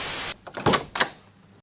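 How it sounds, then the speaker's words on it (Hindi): A truck door is opened: a burst of noise cuts off, then a few close mechanical clicks and two sharp latch clacks follow in quick succession before silence. "किसी ने ट्रक का दरवाज़ा खोला।"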